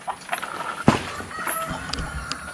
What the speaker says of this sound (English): That's a light Brahma Leghorn mixed rooster right there